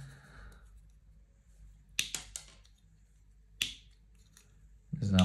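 Jaws of a Leatherman Rebar multitool snipping: a few sharp, crisp clicks and snaps, two clustered together and another a moment later, close and fairly quiet against a near-silent background.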